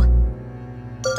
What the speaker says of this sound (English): Ah! My cell phone? Why now?